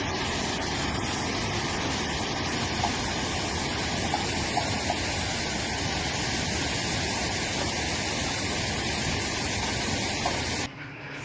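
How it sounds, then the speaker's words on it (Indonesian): Muddy floodwater surges down a swollen river in Mexico as a continuous, loud, dense roar of rushing water with no voices. "Terlihat beberapa mobil yang terbawa banjir rob jatuh ke dalam sungai yang mengalir deras akibat tak mampu menampung air"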